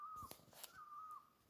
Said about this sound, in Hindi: एक पक्षी बोल रहा है बड़े ज़ोर से